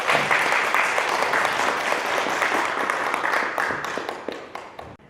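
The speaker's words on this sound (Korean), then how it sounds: "우리 모두 박수로 환영하겠습니다" A church congregation claps in welcome for a guest pastor during a Sunday service, dense sustained applause that thins toward the end with a few last scattered claps.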